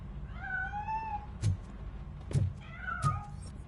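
A cat in RoboCop: Rogue City meows several times, drawn-out wavering cries hidden inside a piano, over a low game ambience with small thumps.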